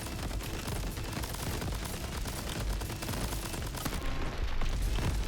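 Chaotic video-game combat in Crab Champions with dense, continuous gunfire and booming grenade explosions piling up loudly and without pause, no talking over it.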